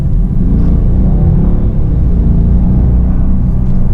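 Bentley Mulsanne Speed, a large luxury sedan with 530 horsepower, accelerating hard; a loud, steady low engine rumble fills the cabin throughout, with no talking.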